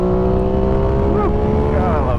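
Aprilia Tuono 660 motorcycle engine revving loudly on the road, a steady droning note that sweeps upward in two quick throttle blips near the end.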